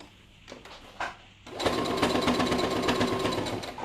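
A few faint taps and handling noises come first, then a sewing machine starts up loud and close and stitches steadily around the edge of a fabric hand warmer, a continuous rapid whirring chatter that runs to the end.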